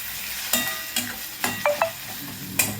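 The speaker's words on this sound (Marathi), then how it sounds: "यामध्ये 1 चमचा आता हळद पूड घालणार आहे मी. त्याचप्रमाणे अगदी थोडीशी हिंग मिक्स करून घ्यायचं आहे." Turmeric powder and a pinch of asafoetida stirred into tomato frying in a pan for a ridge gourd and moong dal dish, heard as a steady sizzle with several sharp scraping stirs of a spoon against the pan, close by.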